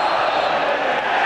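Football crowd at a Gillingham match roaring and applauding, a loud, steady, broad wash of massed noise from the stands with no break.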